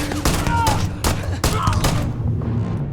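Gunfire in the space game Starfield crackles in several loud, irregular bursts of shots close by, fading after about two seconds into quieter ambience.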